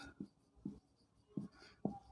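Pen strokes on paper while physics notes on Kirchhoff's laws are written by hand: four short, soft scratching bursts spaced unevenly, close and quiet, with no talk.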